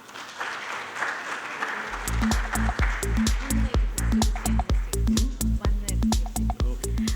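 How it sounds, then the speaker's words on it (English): An audience at a packaging industry talk applauds for Mr. Khanna, scattered clapping that swells after a quiet start, with loud rhythmic thumping beats running through it. "A big round of applause for Mr. Khanna, please"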